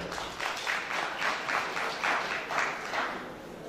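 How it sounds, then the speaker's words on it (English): Guests at a celebration of life applaud, the crowd's clapping rolling in soft repeated swells, fairly distant and moderate in level with no voices over it. "Ladies and gentlemen, give them a big round of applause"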